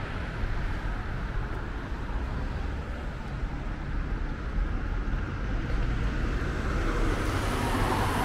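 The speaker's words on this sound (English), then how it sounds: "The traffic is a little bothering," Steady, continuous road traffic roar in Munich near the Prinzregententheater, a dense broadband rumble of passing vehicles that never lets up and swells slightly toward the end.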